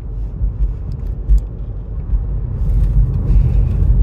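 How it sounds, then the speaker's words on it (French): Tesla Model Y 2023, a 204 hp version, pulling away from a standing start: a low, steady rumble of road and motor noise that builds gradually, with no engine note, heard from inside the car. "Tu vas t'arrêter, tu vas faire un départ arrêté."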